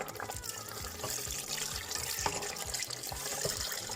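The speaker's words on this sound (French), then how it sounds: "Et je rajoute un peu d'eau." Water poured into a pot of couscous gras, a continuous splashing and trickling pour with bubbling and small clinks, close and steady throughout without speech.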